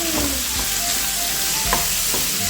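Two kilos of chicken with five onions sizzle in a frying pan while being stirred, a loud, continuous crackling hiss with occasional scraping strokes, close up and without voices.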